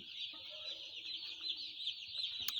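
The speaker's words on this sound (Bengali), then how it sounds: "এখানে সতেরোশো পঞ্চাশটা মুরগি বাচ্চা আছে" About 1,750 small chicks peep constantly in a high chorus while a hen clucks low beneath them, fairly faint.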